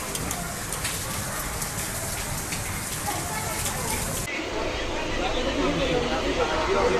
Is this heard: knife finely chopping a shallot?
no